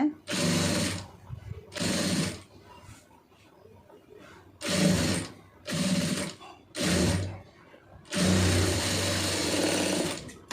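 A sewing machine stitching piping onto a blouse neckline runs in about six loud whirring bursts of one to two seconds, separated by short pauses where a voice is faintly heard.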